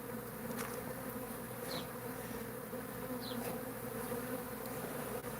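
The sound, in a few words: bees buzzing in a room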